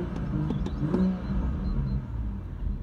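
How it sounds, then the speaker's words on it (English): A BMW M240i engine revs briefly with a short rising rumble from the exhaust, then settles into a low throaty hum, heard up close. "the exhaust system on this car. So if I give the car a rev"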